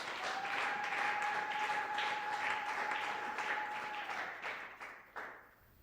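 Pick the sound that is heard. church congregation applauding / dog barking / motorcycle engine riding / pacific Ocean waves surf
church congregation applauding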